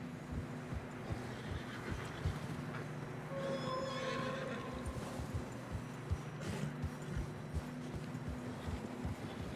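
A horse in Red Dead Redemption 2 whinnies in a drawn-out neigh midway, set against steady clip-clop of hooves on a trail and a low background hum, with no voices present.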